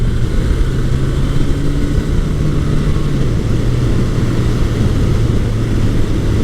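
A 1981 Suzuki GS1100E motorcycle engine drones steadily while riding, with a low, even hum, gentle pitch shifts and constant wind rush over it.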